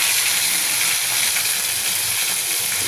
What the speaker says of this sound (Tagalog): Prito tayo ng bangus.